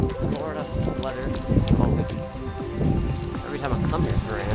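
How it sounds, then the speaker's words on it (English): Rain falling outdoors in humid Florida weather, a steady patter on surfaces heard under a person talking nearby for the whole stretch. "it's been raining out so much"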